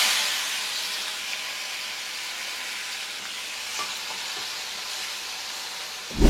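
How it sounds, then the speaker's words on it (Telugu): Onion paste frying in hot oil in a pan as the base for a crab curry, a steady broadband sizzle that stays even throughout with faint stirring clicks and no talk. "ఆనియన్ పేస్ట్ వేసుకున్న తర్వాత బాగా వేపుకున్నాం అనమాట"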